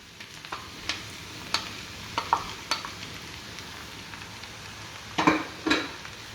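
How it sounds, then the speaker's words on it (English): Mee goreng noodles with scrambled egg are stir-fried and mixed in a pan, with a soft steady sizzle under scattered light scraping and clinking strokes of the utensil, louder near the end. "So here I'm going to give a nice good mix to the mee goreng"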